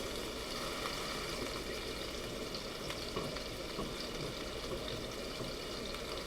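Teriyaki salmon sears in a hot pan with a loud, continuous, dense sizzle and crackle that holds steady throughout, with no talking.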